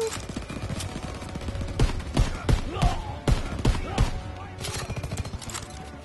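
Gunfire in the video game Call of Duty: WW2: repeated sharp, loud shots in an uneven rhythm over a steady bed of game noise and ambience.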